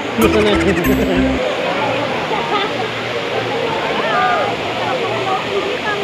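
A constant roar of rushing water from Daranak Falls runs throughout, with a brief burst of voices at the start and faint speech buried in the noise.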